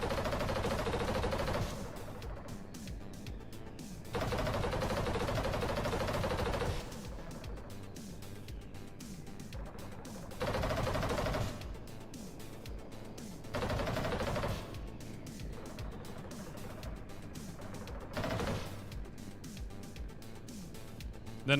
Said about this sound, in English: I do love my little auto turrets here.